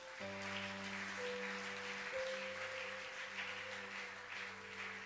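A church congregation applauds and cheers in praise during a Sunday service, a steady wash of clapping over sustained keyboard or organ chords, with no one speaking.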